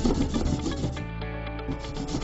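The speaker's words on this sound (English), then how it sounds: "Remove redundant material in circumference of outer circle with hand file." A hand file rasping around the cut edge of a hole in a plastic Sintex water tank, close and loud, with quick repeated scraping strokes and no talk.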